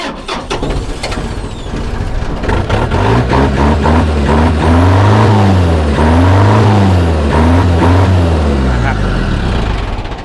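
A used turbocharged farm tractor engine with 2,646 hours of use runs loud and close. It revs up and down in a steady diesel drone, and its pitch swells and falls in repeated waves.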